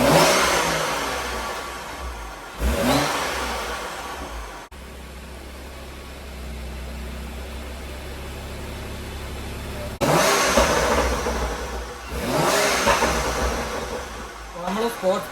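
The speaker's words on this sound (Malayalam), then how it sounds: "ഇനിയിപ്പോൾ എങ്ങനെയുണ്ട്, എക്സോസ്റ്റ് ബർബിളൊക്കെ വന്നിട്ടുണ്ടോ എന്ന് നോക്കണം." A BMW with a Stage 2 tune revving hard in two bursts, with rough crackling exhaust burble between them and a quieter idle stretch in the middle, close and loud.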